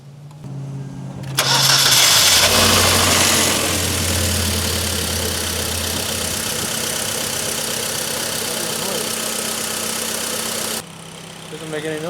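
A car's repaired starter cranks briefly and the engine catches, then runs at a loud, steady idle for several seconds before cutting off, with brief talk at the start and end.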